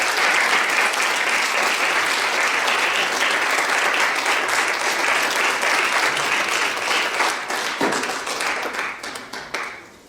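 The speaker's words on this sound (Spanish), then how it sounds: "Sí, pero antes un aplauso." A lecture audience applauds in a full, sustained wash of clapping that holds steady for several seconds, then tapers off and fades near the end.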